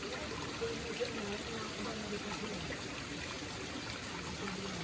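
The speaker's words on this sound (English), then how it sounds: "the water running fast, eh?" Fast-running stream water rushing steadily along a roadside in Moore Town, Jamaica, a broad constant wash close by, with people talking faintly over it.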